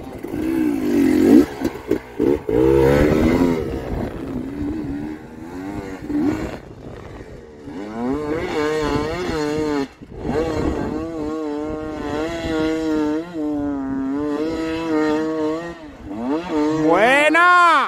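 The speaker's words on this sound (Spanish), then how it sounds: "¡Vamos, niño, que corra la moto!" A motorcycle engine revs repeatedly at a motorcycle race, its pitch swooping up and down in long loud bursts, with a voice shouting briefly near the start.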